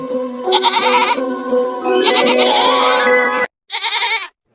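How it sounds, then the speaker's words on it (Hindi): A goat bleats loudly and repeatedly in long wavering cries, close by, followed by a brief pause and one more shorter bleat. "यह तो बकरी के चिल्लाने की आवाज है,"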